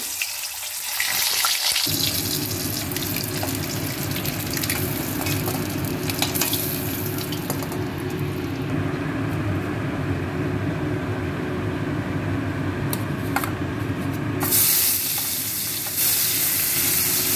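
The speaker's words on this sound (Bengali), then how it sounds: "আগে তেলে নুন দিয়ে দেবো, দিয়ে ডিমটা ভাজবো।" An egg fries in salted oil in a pan, sizzling loudly and steadily at close range. There is a brief rattle at the start, and the sizzle continues for the full length with slight shifts in intensity.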